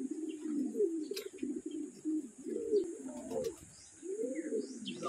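Racing pigeons back at their loft after a race from Atimonan, Quezon, coo repeatedly in soft, rhythmic bursts close by, with a few faint chirps and a steady background hiss.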